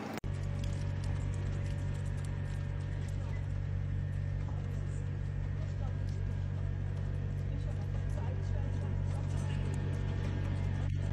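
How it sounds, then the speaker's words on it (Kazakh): A car drives in with a steady, close engine rumble and low hum that holds at an even level throughout, with no clear pauses. "машина кирип кетип атат"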